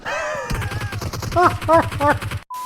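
Rapid gunshots from PUBG Mobile crack in a steady repeating burst over a low rumble, while voices talk over the gunfire.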